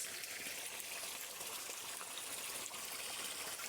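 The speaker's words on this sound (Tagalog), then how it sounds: "Matagas ng tubig." Water trickles and splashes steadily, a soft continuous hiss of leaking flow with no voices.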